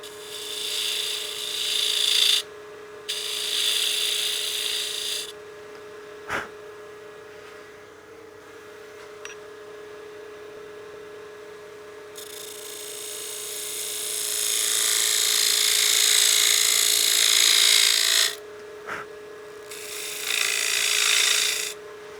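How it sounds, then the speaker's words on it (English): Spindle gouge cutting a spinning wooden utility box on a lathe, a steady rasping shear in several bursts separated by short pauses, near and alone over a constant motor hum. "I'm going to be using my spindle gouge."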